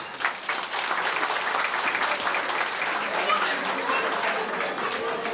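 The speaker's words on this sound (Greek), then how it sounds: "Εδώ σηκώνει χειροκρότημα." Steady applause from a crowd at a municipal year-end celebration, sustained clapping at moderate volume for several seconds.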